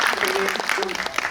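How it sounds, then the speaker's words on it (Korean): Audience applause fills a cinema auditorium at a guest visit screening of the film Harbin at CGV Yongsan, a steady, dense clatter of many hands with voices mixed in. "네, 큰 박수 부탁드립니다."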